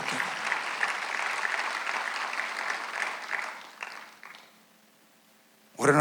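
A church congregation at a Sunday worship service applauds steadily, the clapping tapering off and dying out near the end, followed by a brief loud burst.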